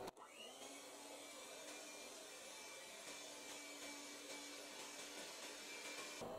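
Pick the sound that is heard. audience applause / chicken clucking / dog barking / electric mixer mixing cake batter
electric mixer mixing cake batter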